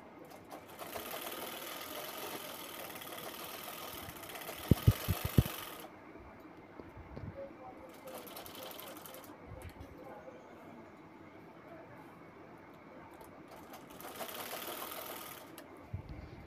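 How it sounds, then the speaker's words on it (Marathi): A sewing machine top-stitches fabric for a handmade bag in several short bursts, interspersed with quieter pauses and a few sharp clicks. "त्यानंतर त्यावर दाबटीप घेतोय शिलाई घेतलेल्या ठिकाणी"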